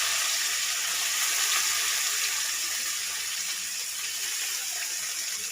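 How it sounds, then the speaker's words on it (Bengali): Thinly sliced onions, about 400 to 450 grams, hit hot oil for a chicken curry, making a steady, even hiss that holds without a break and with no talking. "এটা 400 থেকে 450 গ্রাম পেঁয়াজ তেলে দিয়ে দেবো"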